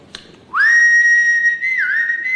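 A person whistles a loud, sustained high note to call someone, holding it steady for about two seconds before dipping and rising again, close by with no talking.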